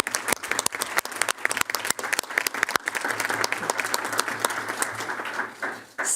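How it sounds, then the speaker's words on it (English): Round of applause from an audience at a school board of education meeting, dense steady clapping that stays loud for several seconds, then tapers at the end. "So can you join me in giving all of them a round of applause?"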